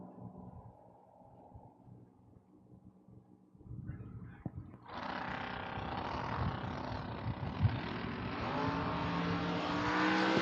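A Chevelle drag race car from Manheim, Pennsylvania launches down the strip at the 2024 FRBR Coastal Clash, its engine swelling from a low idle into a loud, sustained roar that holds strong to the end.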